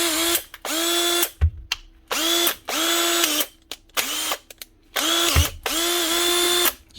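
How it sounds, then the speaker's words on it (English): A repaired Makita cordless drill with a new chuck and new brushes whirs loudly in repeated bursts of a second or so, spinning up, running, and stopping with brief clicks between. "actually a good wee drill"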